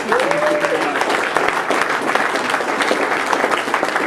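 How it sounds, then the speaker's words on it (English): A crowd at a political office launch event breaks into loud, continuous applause, with a brief voice rising over the clapping at the very start before the sound settles into an even wash. "So everyone, give yourselves a round of applause for that."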